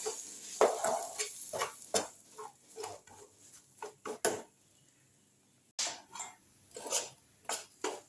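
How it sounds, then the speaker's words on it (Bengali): Semolina is fried with tempering spices in a pan and stirred, giving a series of sharp, irregular scraping and clinking strokes of a utensil against the metal, with a short quiet gap midway. "সুজিটাও আমি ফোড়নের সঙ্গে খুব ভালো করে ভেজে নিচ্ছি"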